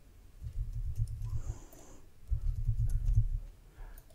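Soft keystrokes tap out a password on a laptop keyboard during Windows 10 account setup, in two short clusters separated by a brief pause. The clicks are close and quiet, with no talking.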